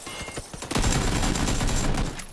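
Gunfire in the video game PUBG: a few spaced single shots, then a dense, loud burst of rapid automatic fire that continues steadily to the end, close and punchy.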